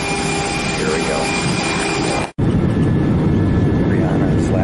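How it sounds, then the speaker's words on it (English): A steady, loud roar of an airplane's jet engine in Florida, broad and unbroken apart from one sudden brief dropout midway, with no other sounds standing out. "Here's the plane."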